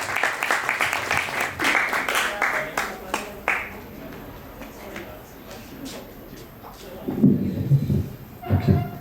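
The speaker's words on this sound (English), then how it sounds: "A round of applause." An open mic audience claps for a performer in a burst of scattered, distinct hand claps that thins out within a few seconds, followed by quieter room noise and low, indistinct voices.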